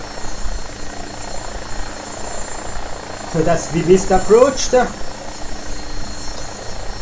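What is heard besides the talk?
AgustaWestland AW109SP helicopter flying in a flight simulator video game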